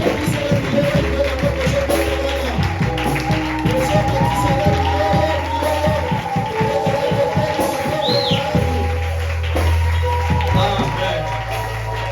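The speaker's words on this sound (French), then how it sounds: "Acclame pour le Seigneur Jésus" A church congregation at a service closing a month of fasting and prayer cheers and acclaims loudly and continuously, a dense crowd roar with music and a voice over the top.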